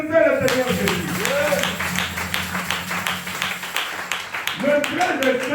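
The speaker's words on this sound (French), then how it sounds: "Applaudissez le Seigneur Jésus" A church congregation applauds with a continuous patter of many hands, while voices call out and speak loudly over the clapping throughout.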